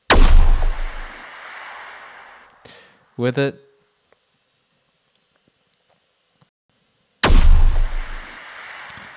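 Two loud, crackling hammer-blast sound effects designed for the video game Dauntless, with a booming low end and fizzing top, separated by a brief spoken phrase and silence.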